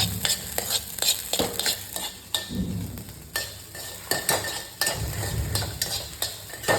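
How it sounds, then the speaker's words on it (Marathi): Eggs fry for egg rice in a pan, a soft sizzle broken by repeated scraping and stirring with metal utensil clinks, close and fairly quiet. "अंड्याचा पण काहीतरी फ्राय बनवू"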